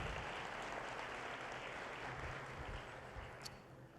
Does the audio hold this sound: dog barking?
no